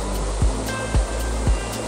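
Kaigal Falls waterfall running, a steady broad rush of water heard up close, with a few brief low thumps breaking through at regular intervals.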